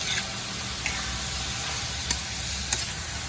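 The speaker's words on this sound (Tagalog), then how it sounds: "lalagay na natin itong palaya. Yun. Haluin lang natin ng konti." Bitter gourd (ampalaya) stir-frying with pork in a hot pan, a steady close sizzle with a few faint clicks of stirring.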